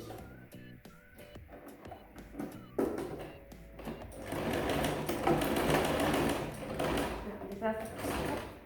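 A sewing machine stitches swim shorts fabric nearby in short bursts of rapid rattling, stopping and starting, then running longer and louder in the second half, while someone talks quietly in French over it.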